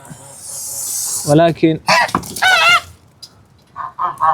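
A goose sitting on its eggs gives a long breathy hiss, then loud nasal honks follow, mixed with someone talking nearby.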